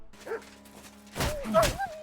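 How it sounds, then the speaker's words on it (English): Wolves and dogs in the game Kingdom Come: Deliverance 2 let out a few short barks and yelps, with a louder burst of snarling and whimpering toward the end, heard fairly close. "Wolves and dogs can be a genuine issue if you don't know how to deal with them"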